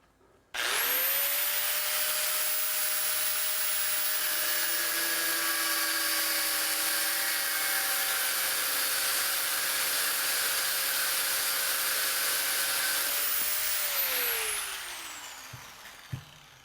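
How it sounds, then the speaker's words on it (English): A die grinder spins up abruptly and holds a loud, steady high-pitched whine while cutting a screwdriver slot into the top of a mold pin, then winds down after about thirteen seconds, close and alone. "I can go ahead with the die grinder and cut a little"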